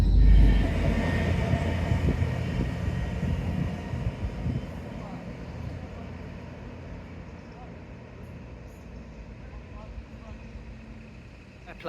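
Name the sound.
riding on a train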